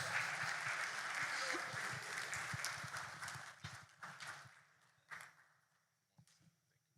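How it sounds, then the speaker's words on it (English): Audience applause at a tax administration stakeholder event in Ghana, loud at first and thinning out over several seconds into scattered claps with a few voices. "please let the applause be resounding for the Commissioner General, Mr. Anthony Kwesi Sapon."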